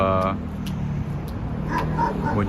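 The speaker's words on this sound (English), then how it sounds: "The dog's barking at me." A dog barks on a street in Astoria, Queens, with a few sharp barks and yips at moderate distance amid traffic and city background noise, while a person talks nearby.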